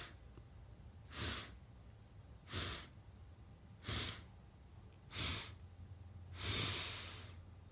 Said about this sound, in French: Et j'inspire.